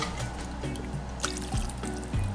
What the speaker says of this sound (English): I'm going to put a little bit of water here